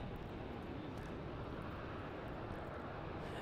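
An Etihad airliner taxis on a far taxiway at Melbourne Airport, Australia, giving a steady, distant broadband engine roar that holds at an even level throughout, with no voices.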